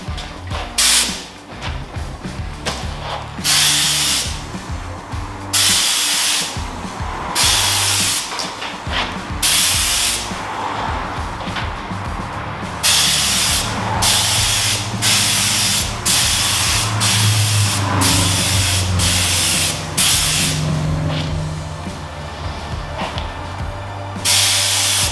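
Bursts of spray-gun hiss, primer thinned at least 50% through a 1.4 tip, repeat in a steady rhythm of passes across car wheels, loud and close, with brief mechanical clicks between them and no talking.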